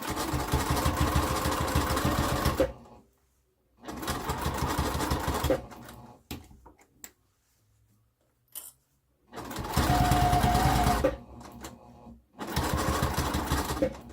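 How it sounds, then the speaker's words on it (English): A sewing machine stitches pocket dividers on a fabric book sleeve, running in four loud, steady humming bursts separated by quiet pauses with faint handling sounds. "I'm gonna sew from the bottom up."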